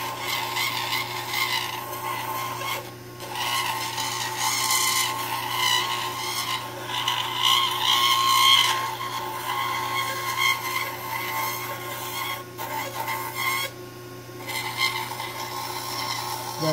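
A white rough-cut polishing wheel smooths an acrylic denture, giving a steady close-up rubbing and grinding whir that runs throughout, with a steady motor hum beneath and brief pauses where the piece lifts off the wheel.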